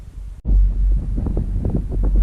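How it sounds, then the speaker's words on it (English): Strong wind buffeting the microphone outdoors in winter snow, a loud low roaring rumble that drops out briefly, then returns steady and gusting for the rest of the moment. "Again, I apologize for the wind."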